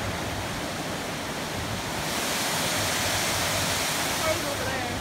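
Cold flowing water at an abandoned outdoor spot, a constant loud rushing wash that swells slightly halfway through, with no voices.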